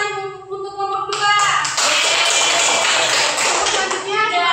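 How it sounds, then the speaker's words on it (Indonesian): Children in a classroom clap together for a group after its answer, a dense burst of clapping that starts sharply and continues loud, with a voice talking before and after it. "kita berikan tepuk tangan untuk kelompok 2"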